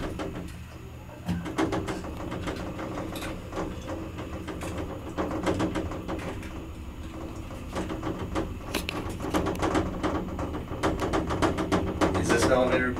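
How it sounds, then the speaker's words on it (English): Motor of an old, historic Dover elevator running in a basement, a steady mechanical hum and rumble punctuated by clicks and clatter, close and continuous throughout. "She's got an interesting motor."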